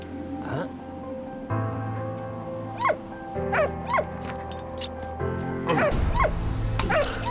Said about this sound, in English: It's a good doggy.